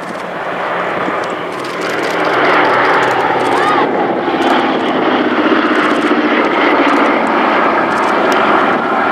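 A P-47 fighter aircraft passes over an airshow at Duxford, its engine a loud, steady broadband roar that swells after the first couple of seconds and holds throughout, with crowd or commentary noise faintly mixed in.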